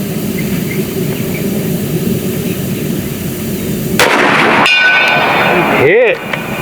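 A single loud shot from an AEA Zeus 72 caliber pellet gun with a 16-inch barrel, a sharp crack followed by a ringing metallic hit after steady outdoor background noise.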